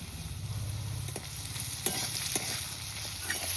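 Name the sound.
shrimp and taro frying with turmeric and chili powder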